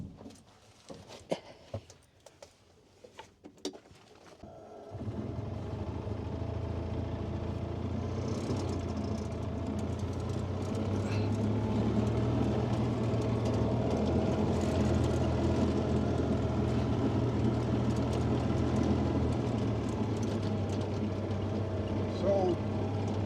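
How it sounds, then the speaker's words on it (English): Engine of a Gizmo 28 utility vehicle starts after a few knocks and clatters, then runs with a steady low drone on a ride around a woodyard, with people talking over it. "we'll take you in the Gizmo and take you for a ride around"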